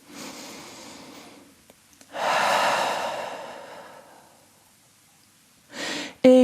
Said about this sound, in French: Une grande respiration ici ou 2